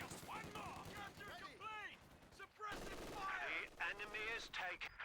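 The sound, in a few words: MG42 machine gun fire in Company of Heroes 2 video game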